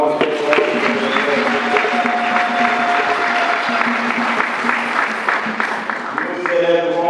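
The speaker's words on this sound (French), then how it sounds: "acclamons ce frère" A church congregation applauds steadily for a brother during Mass, the clapping continuing throughout with tonal voices or music sustained beneath it.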